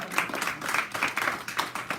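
An audience claps for the Murrays after medals are handed out, a short burst of scattered hand claps with an uneven rhythm that stays fairly close and steady for about two seconds.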